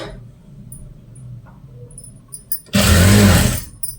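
After quiet handling noises, a sewing machine stitching blouse fabric whirs in one loud, close burst of just under a second.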